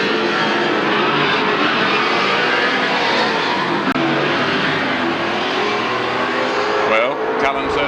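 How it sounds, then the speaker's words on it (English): A pack of 1979 AMSCAR race cars starting a five-lap heat at Amaroo Park, their engines a dense, steady roar that fills the scene without letup, with a commentator's voice running over it. "Cullen certainly justified his pole position by that start"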